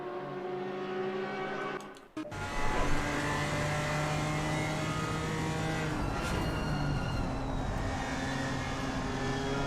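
A BMW GT4 race car in Assetto Corsa Competizione accelerates hard at Brands Hatch, its engine note climbing steadily through the gears after a brief shift dip, loud and sustained.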